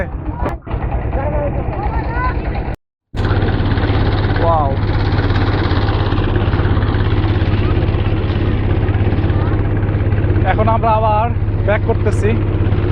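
Engine of a wooden river boat droning steadily on the Padma river near Rajshahi, loud and close with a constant low rumble, briefly cut out once, with voices talking faintly in the background.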